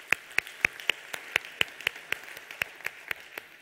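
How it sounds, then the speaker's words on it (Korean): Steady, evenly spaced claps from a congregation in a church, fairly quiet and regular, about four per second throughout, with no talking. "우리 하나님께 감사와 영광의 박수 올려드리겠습니다"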